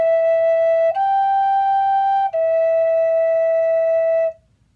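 A breathy wooden Native American flute plays three sustained notes in a row, each clean and steady, with a faint background hiss.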